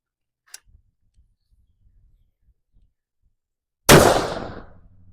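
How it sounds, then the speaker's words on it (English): An unsuppressed 6mm rifle fires a single sharp, loud shot heard from ear level, with a long decaying tail, after a stretch of near-silence broken only by faint small ticks. "we're going to shoot unsuppressed with the mic at ear level"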